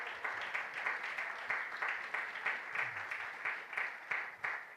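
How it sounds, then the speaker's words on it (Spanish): A church congregation applauds during a Spanish-language Palm Sunday sermon: steady, dense clapping from a crowd, sustained evenly for the whole stretch with no voices standing out. "Denle un aplauso al Señor"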